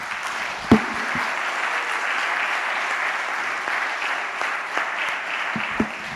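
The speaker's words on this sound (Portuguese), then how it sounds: "Você pode dar um aplauso ao Senhor Jesus?" A church congregation applauds in a continuous, moderately loud wash of clapping, with a few sharper individual claps standing out over the steady crowd sound.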